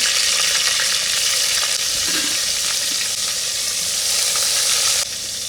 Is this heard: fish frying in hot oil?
yes